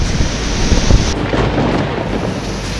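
A violent thunderstorm with hail and lightning sweeps over Assam, with a loud close thunder crash and heavy rain hissing steadily beneath it.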